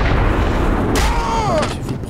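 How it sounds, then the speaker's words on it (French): Sniper Elite gunfire booms loudly and continuously, with one sharp crack about a second in followed by a falling whistle-like tone. "il suffit de prendre son temps et de leur tirer dans la tête"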